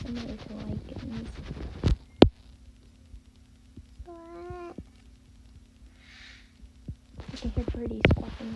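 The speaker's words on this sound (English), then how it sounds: "I can hear birdies squawking in the background." A bird gives a short squawking call in the middle of a quiet stretch, with a few other chirps and background noise around it.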